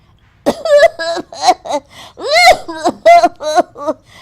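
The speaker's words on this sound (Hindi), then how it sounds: "पूरे घर में मिर्च वाला तीखा धुआं फैल जाता है और सब खांसने लगते हैं" Several people cough and clear their throats from pungent chili smoke in quick succession, harsh bursts and strained vocal sounds overlapping close by.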